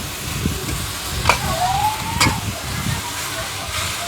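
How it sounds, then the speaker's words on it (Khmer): Cabbage and pork fry in a pan as they are stirred: a dense sizzle with scraping stir strokes, a short squealing tone midway, and faint voice in the background. "កូរវាកូរត្រឡប់ហ្នឹងណា"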